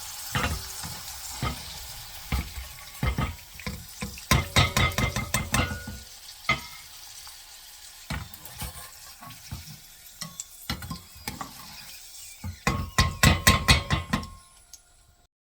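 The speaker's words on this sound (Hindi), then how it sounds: "किशमिश फ्राई हो गई है, इसको निकाल लेते हैं।" Raisins frying in ghee in a pan for panjiri, a sizzling bed broken by bursts of scraping and knocking as a spoon stirs them, the clatter coming in clusters with brief quiet gaps, close and moderately loud.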